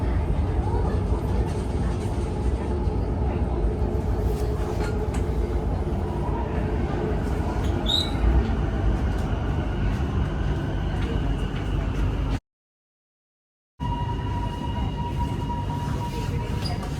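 Metro Tunnel train pulling into State Library station in Melbourne, a steady rumble of wheels and motor with a brief squeal, a short silent gap near the end, then the rumble resumes.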